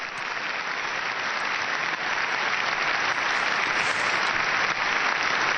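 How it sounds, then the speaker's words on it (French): Members of the German parliament give a standing ovation in the Bundestag chamber, sustained dense applause filling the hall steadily without pause. "Des parlementaires qui applaudissent debout"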